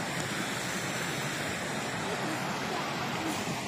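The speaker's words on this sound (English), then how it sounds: "That's a pretty good little river flowing." Steady broadband rush of flowing water, like a small river running continuously nearby, with no distinct breaks.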